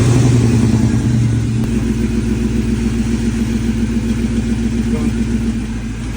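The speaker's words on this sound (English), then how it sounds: "So we're going to see if we can break the bead with the truck." A Chevy Blazer rock crawler's engine idles and rumbles nearby with a slight rev at the start, holding a steady low drone while people talk over it.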